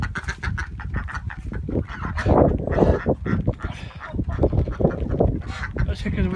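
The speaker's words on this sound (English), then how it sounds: "there they are, there's the geese." A flock of geese honks loudly and continuously close by, mixed with clucking chickens and gusty wind on a wet, windy day.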